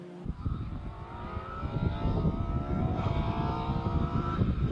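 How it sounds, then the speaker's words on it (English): Modified Ford Mark II Escort race car at Anglesey circuit, its engine droning loud and close in a sustained high rev, pitch climbing gradually as it accelerates along the pit straight. "wonderful engine in that Mark II Escort singing away with Piers Grange at the wheel."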